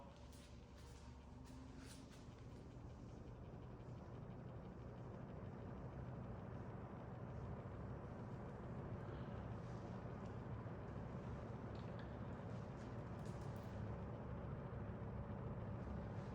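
A 1970s GE 20-inch box fan runs on its low setting, a faint steady whooshing hum with a low motor drone that continues evenly throughout.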